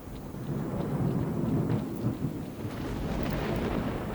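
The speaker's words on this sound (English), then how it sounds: "I love rain in video games and thunderstorms." Steady rain hisses over a low, rolling thunderstorm rumble in the video game Stalker: Shadow of Chernobyl, a continuous, moderately quiet wash of weather without any voices.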